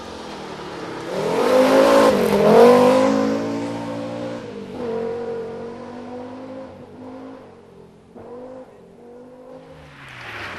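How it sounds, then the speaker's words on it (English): A Group A Audi Quattro rally car drives past on a national rally stage, its engine revving hard and climbing in pitch as it approaches loudly, then easing and shifting through gears as it pulls away. "This is Glyn Jones from Carmarthen with Dave Nicholson from Daventry in the Group A Audi Quattro."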